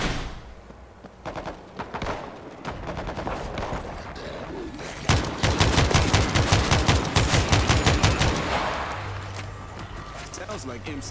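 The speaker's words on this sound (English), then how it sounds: "Sounds like M16s." M16 rifle fire in the World War Z video game: rapid automatic bursts, sparse at first and then a dense, loud barrage of overlapping shots with thuds and voices calling out over the battle.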